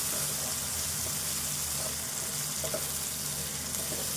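Sliced tomatoes and onions frying in a pan for goat liver curry give a steady, close hiss of sizzling that stays even throughout, with no voices.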